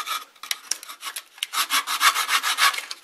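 A small sander works over a carved wooden flower, producing close, loud rasping bursts that start choppy and then settle into a fast, regular back-and-forth rhythm, with no voices.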